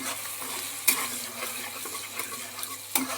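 Chopped onion, garlic, tomato and capsicum fry in a pan for soybean keema rice, a soft continuous sizzle broken by two sharp stirring scrapes, with no talking.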